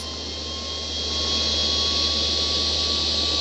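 Jet engines of an airliner spooling up for takeoff in a flight simulator game, a steady loud roar with a high whine that swells after the first second and then holds constant.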